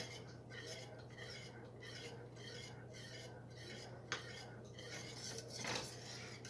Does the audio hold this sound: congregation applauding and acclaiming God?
no